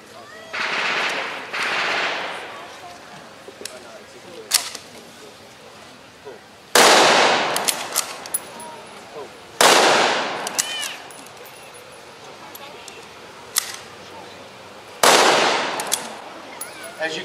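K-98 five-shot bolt-action rifles firing at a German army weapons demonstration, sharp loud cracks spaced several seconds apart, each followed by a trailing echo, with a few fainter shots between.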